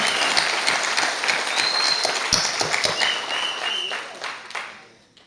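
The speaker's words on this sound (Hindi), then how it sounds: "तालियां, जोरदार तालियां होना चाहिए।" A large crowd at an agricultural company seminar in India claps, a dense burst of applause with a few whistles and calls that fades away toward the end.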